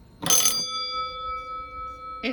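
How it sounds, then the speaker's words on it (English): A small bell on a 9-volt button panel is struck once, a bright metallic ding that rings on with a long fading tone, then a second brief tap comes near the end, close and quiet. "it's really just a button with a bell on it"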